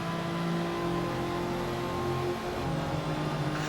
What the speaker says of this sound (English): I'm going to be quiet so you can hear the car going through the tunnel